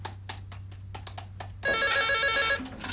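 A few soft ticks and taps, then a telephone starts ringing loudly with a bright electronic trill that cuts off near the end.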